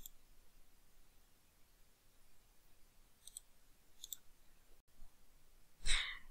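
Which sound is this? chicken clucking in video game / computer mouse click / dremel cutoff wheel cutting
computer mouse click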